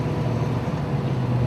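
Steady drone of a 1970 Ford Torino Fairlane 500 with a six-speed manual cruising at about 70 mph in sixth gear, a constant low engine and road hum with no voices.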